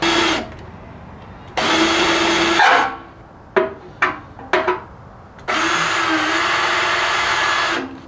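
A power sander whirs loudly in long bursts on a C5 Corvette custom front splitter, stopping and starting, with a few short clunks and scrapes between runs.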